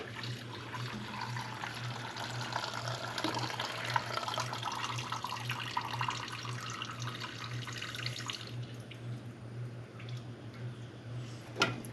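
Old gasoline pours steadily from a Mantis tiller into a container, a continuous liquid splash with a low steady hum beneath that thins out near the end.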